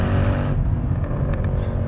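A Mercedes C63 AMG 507 Edition with its 6.2L V8 accelerates hard in second gear as the tyres fight for grip, giving a loud, steady, deep engine roar that runs unbroken throughout.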